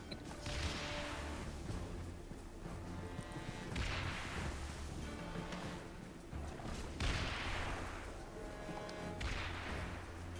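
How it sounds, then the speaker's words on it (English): Repeated explosions from an airstrike in the Avatar game boom in several loud waves across the clip, with rumbling low blasts and whooshing debris over steady battle noise. "That's a good airstrike. That's a quality airstrike."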